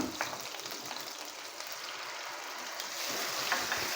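Tomato paste sizzles and fries in a pan with light-browned ginger garlic paste, a steady, dense crackle heard close up and alone, growing slightly louder toward the end.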